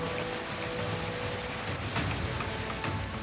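Heavy rain pours during flooding in Malkangiri, Odisha, a steady dense hiss of water on surfaces with a few brief louder swells and no voices.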